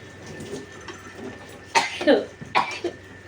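A few sharp coughs in quick succession, fairly close, over a quiet background hum.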